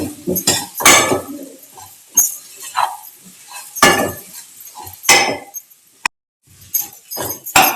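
A spoon stirring cassava masala in a pan, giving repeated loud metallic scrapes and clinks in irregular bursts with short pauses between strokes.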